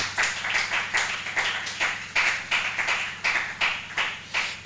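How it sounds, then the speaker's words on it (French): A church congregation claps together in a steady, even rhythm, roughly two claps per second, close and lively, with a low hum underneath and no talking. "on acclame le Seigneur très fort"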